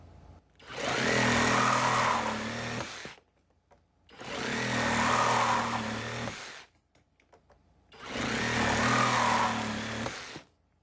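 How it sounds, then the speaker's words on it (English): A Skil compact cordless reciprocating saw with a new DeWalt blade cuts through PVC pipe in three separate loud runs of about two and a half seconds each, a rasping, buzzing stroke noise close by, with short quiet gaps between. "why is the Skil slower than the M12 cutting through the PVC?"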